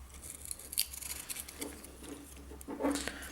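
Scissors cutting out a small pad for an old gamepad repair, a few close snips and crinkly material rustles in a quiet room, no voices.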